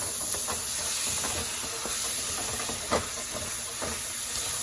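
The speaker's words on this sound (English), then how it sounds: "we're just going to cook this down until the meat is brown" Ground beef browning in a pan for Texas-style chili, a soft, even hiss of frying meat with occasional faint scrapes and one brief clack, fairly quiet and without voices.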